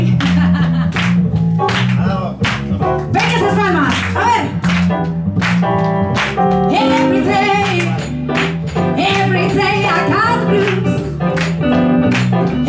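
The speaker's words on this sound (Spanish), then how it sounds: "Aquí quiero unas palmas" An audience at a live blues concert claps along in time to a song, sharp rhythmic hand claps sitting loud over the band's music, with a brief vocal exclamation.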